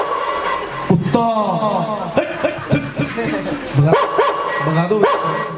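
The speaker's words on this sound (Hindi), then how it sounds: "कुत्ता" A dog barks several times in an outdoor setting, sharp yips and bow-wows spread across the clip, close and fairly loud, mixed with people talking and calling out nearby.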